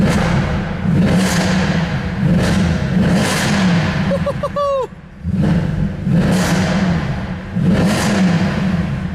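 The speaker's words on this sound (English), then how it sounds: "So, let's hear this engine sound." A loud V8 supercar engine revs in repeated surges to about 4,500 RPM, rising and falling, with a brief chirpy whine between blips; deep rumble throughout.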